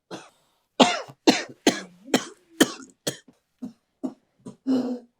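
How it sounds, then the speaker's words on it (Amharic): A man who drinks heavily coughs in a rapid, hacking series of about a dozen harsh bursts, close and loud, with throat clearing mixed in between. "አሳለው እንዴ?"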